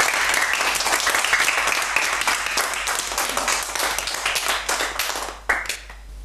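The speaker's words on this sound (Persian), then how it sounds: "شما هم دوستات جاوید جان را تشویق کنید" Audience at a children's celebration event claps for a speaker, brisk and fairly loud applause that holds steady before thinning into a few scattered final claps near the end.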